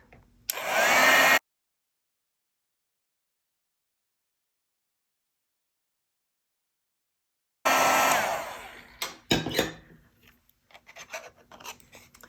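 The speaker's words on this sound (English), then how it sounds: "And now I'm just going to heat emboss it with my heat gun." A heat gun melting gold embossing powder on a love-note card, a steady close blowing whoosh in two bursts separated by silence, followed by light rustling and handling noises.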